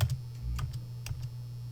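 Quick keystrokes on a computer keyboard, a few soft, separate clicks over a low steady hum, close and fairly quiet, with no voices.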